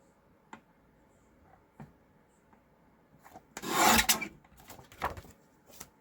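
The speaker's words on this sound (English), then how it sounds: "I'm just gonna cut this to 1 inch." Paper for a handmade card is cut in one quick, close scraping swipe after a few light taps, followed by brief rustling.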